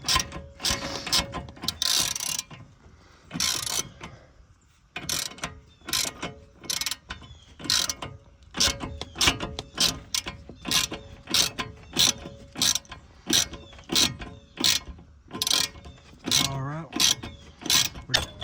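Ratchet wrench tightening a bolt while replacing the rack and pinion on a 1995 Ford Explorer: rapid repeated clicking bursts of the pawl, close and loud, in a steady stop-start rhythm.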